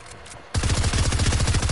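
After a quiet moment, a loud burst of rapid gunfire in a video game starts abruptly and continues as a fast, even stream of close shots.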